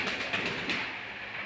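Pigeons at a farm coo softly in a quiet shed, with faint, slightly distant calls over light background hiss.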